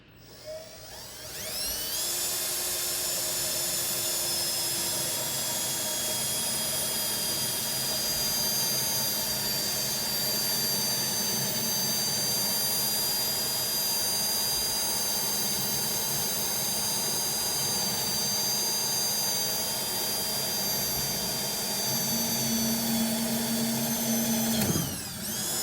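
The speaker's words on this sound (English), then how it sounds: "I'm just going to make sure that I'm holding this drill as straight as possible" A power drill fitted with a self-feed bit bores steadily into clamped wood for a coat rack, a loud continuous high whine with a bright motor tone that holds for over twenty seconds before winding down.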